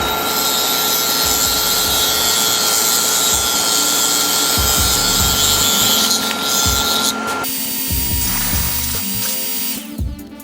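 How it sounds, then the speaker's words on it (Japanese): A nail-care dust collector runs loudly and steadily while Mini 4WD VZ chassis parts are cut, with a constant high whine under scraping, rasping cutting strokes that shift character near the end. "ちょっとねネイル用の集塵機使うんで音がねうるさいかもしれないんですけど"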